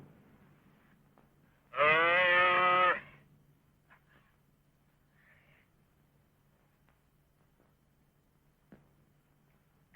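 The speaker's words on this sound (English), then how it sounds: "Sounds like a calf calling." A calf calls once on a ranch, a single drawn-out bawl lasting about a second, fairly clear and moderately distant, followed by quiet with faint scattered knocks and no talk.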